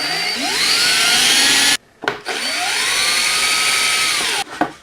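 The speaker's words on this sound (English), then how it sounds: "Now I'm going to drill the holes with a 3/32 inch bit." A power drill with a 3/32 inch bit bores holes in wood for a DIY collapsible musician's throne, two whirring bursts that spin up and wind down with a short pause between them, close and loud, no talking.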